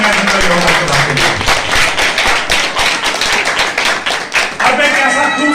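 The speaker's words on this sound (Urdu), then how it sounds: "زوردار تالیاں" A church congregation clapping loudly at a sermon, dense fast rhythmic claps filling the space close by, with voices mixed in underneath.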